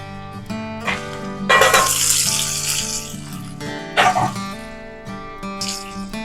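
Sardines fry in an oil-filled pan, a close crackling sizzle with bursts of louder spitting as the fish is turned. Steady tones from background music run underneath.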